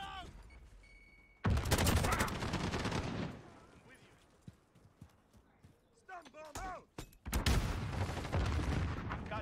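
Bursts of gunfire in Call of Duty, loud rapid volleys at the start and end with sparser shots and some voices in the quieter middle stretch.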